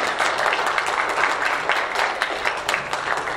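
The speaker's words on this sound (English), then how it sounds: "So massive round of applause for those people there" A school assembly audience claps together in steady, dense applause, close and sustained through the short stretch with no voices over it.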